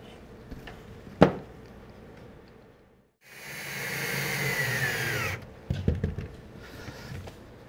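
A power drill drives screws into a high deck chair during assembly: a sharp knock, then a steady whirring run of about two seconds, followed by a few clattering knocks as the screwdriving ends.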